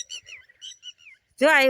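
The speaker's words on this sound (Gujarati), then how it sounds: "જો ટીટોળા બોલે છે" A lapwing calls near a rural home, a series of thin, rising chirps followed by a louder, strained call that rings out clearly at the end.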